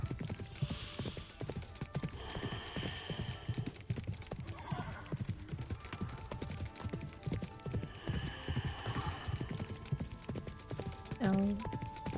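Horse hooves clip-clop steadily in a video game as two riders share one horse, a rhythmic gait running under ambient music and someone talking over it, with a brief neigh-like tone.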